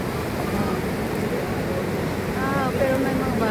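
Strong sea waves wash and roar steadily on a beach where many people are swimming, with wind buffeting the microphone and faint voices in the background.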